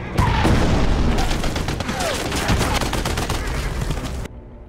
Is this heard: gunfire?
yes